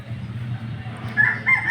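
A native rooster crows nearby, its call rising toward the end over a low, steady background hum.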